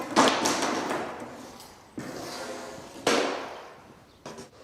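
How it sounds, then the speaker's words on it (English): Hammer knocking nails through carpet smooth edge strip laid along skirting boards, four sharp close thuds spaced about a second apart, each ringing briefly before fading, with no talk. "So all we do with this is just lay it down in front of the skirting boards, ready to nail in"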